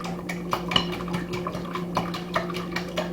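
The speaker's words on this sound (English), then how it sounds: "I have a cup of milk and 6 eggs right into my bowl. I'm just going to whisk them" Whisk clinking against a bowl of six eggs and a cup of milk, quick rhythmic taps and scrapes close by, with a faint steady hum underneath.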